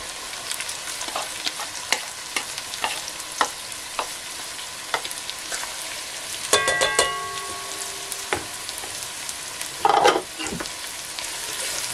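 Garlic and Florina peppers sizzling steadily in a frying pan, with a spoon stirring and scraping through them in short strokes and a louder burst of clatter near the end.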